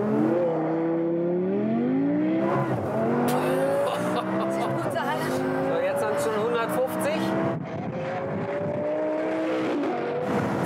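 An extremely tuned, lightweight race car launches and accelerates hard, its engine rising through gears with tire squeal and skidding, loud and close, while a person talks over it.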